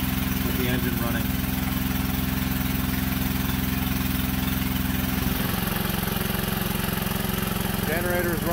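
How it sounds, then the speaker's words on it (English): A generator engine fed by a wood gasifier runs steadily and loudly, a constant droning hum with a brief shift in pitch partway through and faint voices in the background. "Generator is running strong for over an hour, making about 1400 watts."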